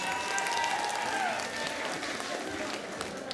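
Audience clapping fills a high school freshman ball, a dense, even patter of hands held steady for several seconds with scattered voices and calls rising over it.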